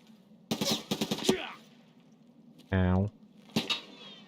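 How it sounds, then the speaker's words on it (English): Video-game gunfire in Escape from Tarkov, PvE mode: a rapid burst of several sharp shots, then a short loud tonal blip and another shot burst near the end, fairly close and crisp. "Where the hell are you shooting me from?"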